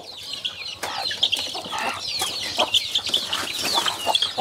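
Several chickens, two to three months old, cluck and chatter close by while eating melon, a busy overlapping flock with short squawks scattered throughout.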